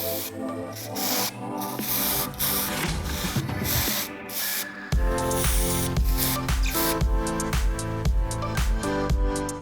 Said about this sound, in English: We're gonna add a little bit of orange and red hairspray to my hair.